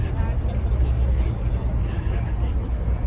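A car drives past at a cars and coffee meet, a continuous low engine rumble close by with people talking over it.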